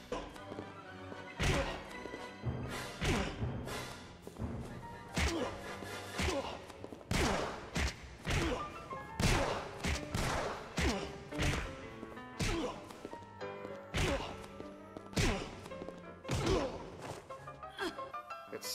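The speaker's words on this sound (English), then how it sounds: "The hand-to-hand combat." Hand-to-hand combat blows in Tomb Raider: The Angel of Darkness land as a rapid run of sharp whacks and thuds, loud and close, in an uneven steady rhythm.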